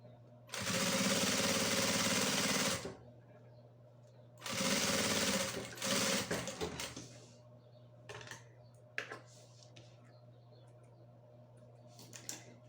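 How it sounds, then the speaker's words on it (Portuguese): Sewing machine stitching a seam close to a zipper while making a crossbody bag, two steady whirring runs of about two seconds each, then scattered clicks and handling knocks. "E passa uma costura bem rente à cremalheira."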